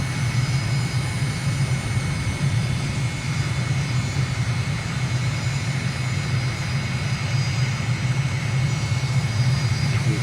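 MiG jet engine in a flight simulator on final approach to runway 23 left in Mexico, gear down and full flaps: a constant, loud, low rumbling drone with a thin high whine above it, steady and unbroken from start to finish.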